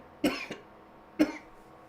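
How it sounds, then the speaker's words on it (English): Two separate coughs about a second apart, close and moderately loud, in an otherwise quiet room. "I have to cough, sorry."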